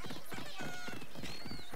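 A horse gallops in Assassin's Creed Odyssey, a steady rhythmic clip-clop of hooves under a continuous game soundscape, with a faint whinny-like tone partway through.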